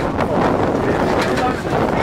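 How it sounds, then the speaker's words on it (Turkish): Strong wind at Miniatürk park on the Golden Horn in Istanbul buffets the microphone with a steady, loud, low rumble and gusty roar throughout. "güneşte çok rüzgar var"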